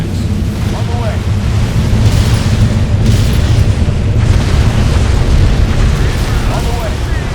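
Heavy weapons fire and rumbling explosions in Halo Wars roll on steadily at loud volume, with a dense low-end roar and scattered bursts layered throughout.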